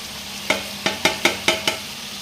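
Crushed pepper, cumin and asafoetida sauté in hot oil under a soft steady sizzle, while a spoon strikes the pan six times in a quick, uneven rhythm, close and clear.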